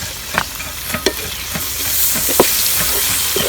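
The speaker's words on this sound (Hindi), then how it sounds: "टमाटरों को भी अच्छी तरह फ्राई कर लेंगे।" Tomatoes frying in a pan with red bell pepper, a steady close sizzle broken by several sharp scrapes and clacks of a utensil stirring, with no talking.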